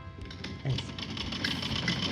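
A sewing machine stitches along folded salwar fabric, giving a quiet, fast mechanical patter that stays fairly close and even for a couple of seconds.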